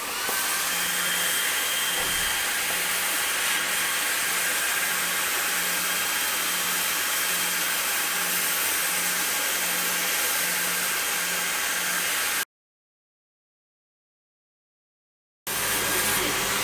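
A laser cutter with air assist runs while cutting 3mm birch plywood, producing a steady broadband rushing blow with a faint hum, broken by a brief silence before the noise resumes.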